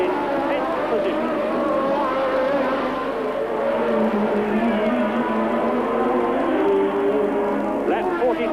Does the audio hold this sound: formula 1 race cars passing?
yes